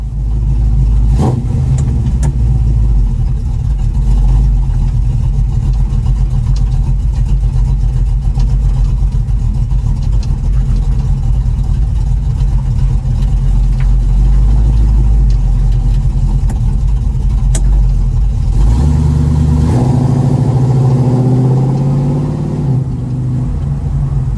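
A 1936 coupe's engine idles loudly and steadily, then revs up with a rising roar near the end, recorded close with no talking.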